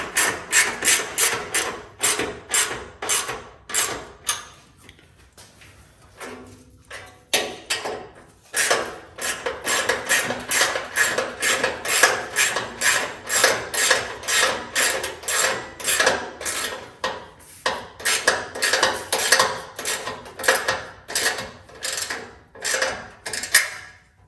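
A ratchet tightening a bolt on a relocation kit, with long runs of rapid clicking strokes, close and fairly loud, broken by a short pause and some rubbing mechanical noise.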